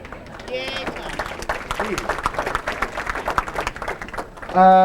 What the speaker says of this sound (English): You can clap now if you care to